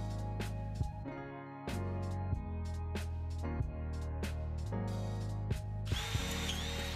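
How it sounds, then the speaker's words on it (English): A power drill bores holes in a tubular rack frame for a reptile enclosure, its motor whirring close and loud with several short pauses and restarts over background music. "I drilled some holes in the frame itself so all the wiring can be hidden within the tubes"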